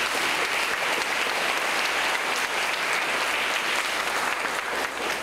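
A parish congregation applauds at a patronal feast, steady dense clapping that fills the whole stretch at an even, sustained level with no pauses.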